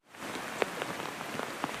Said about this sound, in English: The torrential downpour leading to flash flooding.